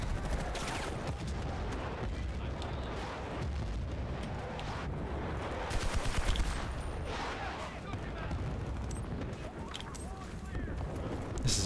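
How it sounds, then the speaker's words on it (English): Sniper shots and gunfire ring out in Battlefield: Bad Company 2 on the Valparaiso map, with dense, continuous battle noise and explosions filling the scene and a few sharper cracks standing out. "I'm already getting sniped at."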